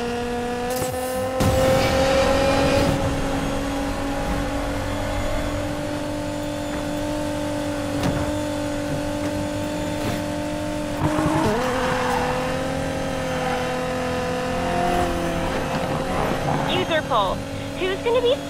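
A car engine in the racing video game Need for Speed Payback holds a steady droning rev with tire noise and occasional impacts, loud and continuous under game dialogue.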